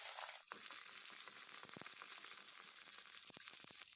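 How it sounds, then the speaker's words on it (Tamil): Garlic cloves frying in oil with dried red chillies for a quick chutney, a steady close sizzle with a sharp crackle near the start and scattered pops and spits throughout. "இப்போ இந்த பூண்டை லைட்டாக ஃப்ரை பண்ணிவிட்டு"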